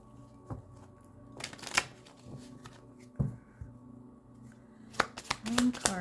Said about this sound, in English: Let me do a shuffle.